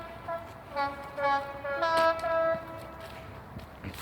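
A train on a UK railway line near Leeds sounds its horn in several tonal blasts, heard from a moderate distance over a soft rumbling background.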